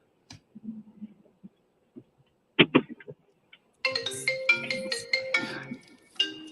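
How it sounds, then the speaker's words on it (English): A telephone rings during live storm coverage: a few scattered knocks and clicks come first, then a bright, repeating ring pattern starts partway through and pulses on to the end. "A telephone ringing."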